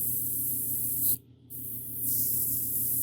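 An airbrush sprays watered-down craft paint onto a 1/4-scale custom Thor sculpture, a close, steady hiss that cuts out briefly for a moment before resuming.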